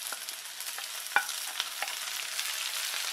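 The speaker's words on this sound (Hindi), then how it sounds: "अब हम इसे टमाटर के गलने तक भून के तैयार करेंगे।" Chopped tomatoes fry with onion, green chilli and ginger over medium heat in a pan, a continuous close sizzle punctuated by sharp spatula taps and stirring scrapes.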